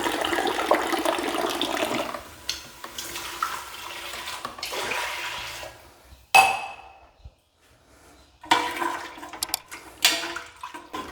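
Two glasses of water poured into a cooking pot for a Sona Masuri rice pulao, in several splashing bursts separated by short pauses, with faint clinks of vessels between pours.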